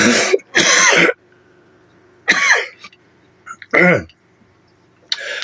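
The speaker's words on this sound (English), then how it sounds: "I'm starting to get over this cold, and I'm doing a little coughing at the end of it" Several harsh coughs up close from a person getting over a cold, in separate bursts with short quiet gaps between them.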